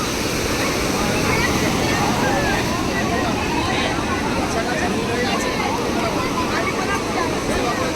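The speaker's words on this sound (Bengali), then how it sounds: "দীঘাতে ঢেউয়ের প্রকোপ কীরকম বাড়ছে দেখুন" High-tide sea waves on a full-moon day at crowded Digha beach make a continuous loud roar of surf under wind noise and distant crowd babble.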